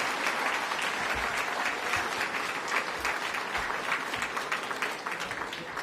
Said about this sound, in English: Let's give a round of applause to our music students.